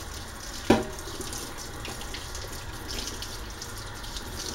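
Tap water runs steadily into an empty glass spaghetti sauce jar while a betta fish bowl is being cleaned, with a sharp clink near the start and a constant rushing hiss after it.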